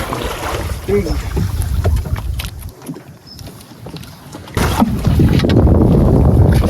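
Strong wind buffets the microphone in loud, rumbling gusts over a fishing boat on open water, easing briefly midway, then surging even louder.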